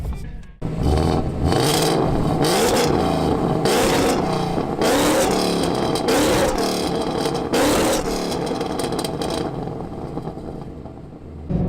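A supercharged 2017 Ford Mustang engine with Roush Phase 2 and stock exhaust revs hard and repeatedly, the exhaust roaring up and dropping back in surges, loud and close with no voices.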